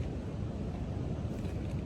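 Strong wind blows across the Appalachian Trail in a steady, loud, unbroken roar that buffets the microphone, with no talking.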